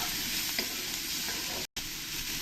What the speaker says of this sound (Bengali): পেঁয়াজটা দিয়ে দেবো এই পরিয়ালটা বানানোর জন্য পেঁয়াজটা একটু বেশিই লাগে খেতে ভালো লাগে এর মধ্যে এক চামচ লবণ দিয়ে দেবো দিয়ে ভালো করে একবার নেড়ে দেবো